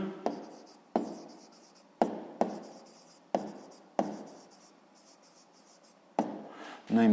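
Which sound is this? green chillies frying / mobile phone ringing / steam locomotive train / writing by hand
writing by hand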